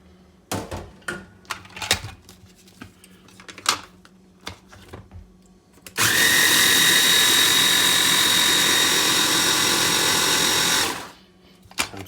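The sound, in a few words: electric mixer mixing cheesecake crust with butter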